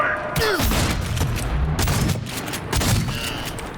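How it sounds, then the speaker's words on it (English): Shotgun fire in the Cyberpunk 2077 video game: heavy booming blasts over a dense, continuous wash of gunfire and chaos, loud and sustained throughout. "Shotguns, not very good."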